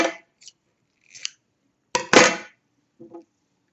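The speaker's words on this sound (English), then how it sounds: "we're going to go ahead and cut our previous colored yarn" Scissors snipping colored crochet yarn while working on amigurumi bulldog puppies: a handful of short, close, crisp cuts spaced irregularly over a few seconds, with silence between them and no talking.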